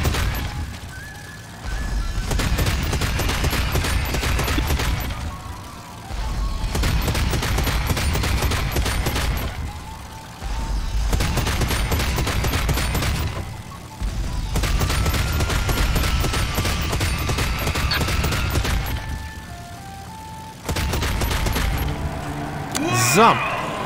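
Gunfire in the video game RAGE, heavy sustained volleys of rapid shots and booms in several long bursts separated by short lulls, with a voice talking over parts of it.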